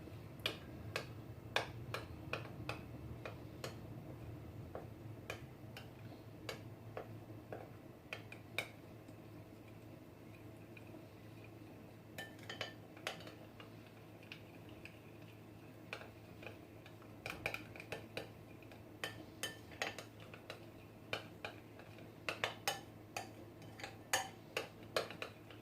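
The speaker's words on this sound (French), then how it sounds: "Et je vais venir donc mélanger le tout ensemble." Chicken marinade with lemon juice is stirred in a bowl, giving a long run of light, irregular clicks and taps of a utensil against the bowl, some in quick clusters, over a low steady background hum.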